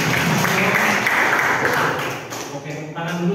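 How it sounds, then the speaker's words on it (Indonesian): A classroom audience of students at an anti-corruption talk applauds a student, producing dense, continuous clapping that stays loud and thins slightly toward the end. "Tepuk tangan dulu."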